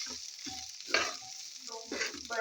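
Day-old cooked rice tipped into a hot pan for garlic fried rice, with a soft sizzle and scraping stir strokes in short bursts, close up.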